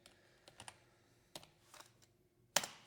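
Light keystrokes as a short word is typed on a computer keyboard, a few scattered soft clicks followed by one sharper key press at the end, close and quiet.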